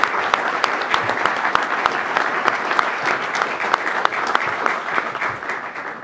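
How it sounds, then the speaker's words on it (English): Warm, sustained audience applause for the Coast Guard Commandant at a cyber strategy address, a thick continuous patter of many hands with crisp nearby claps scattered through, steady in level and free of talk. "would you please, with your warm applause, welcome the Commandant of the Coast Guard, Admiral Zukunft"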